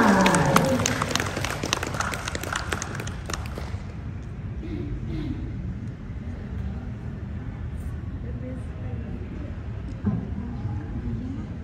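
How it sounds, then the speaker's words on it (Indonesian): An audience at a talk event gives a burst of applause that is loud at first and fades after a few seconds into murmuring room noise, with a faint renewed flutter of clapping near the end. "Mari kita sambut dengan tepuk tangan yang meriah untuk Teh Intan Rembulan"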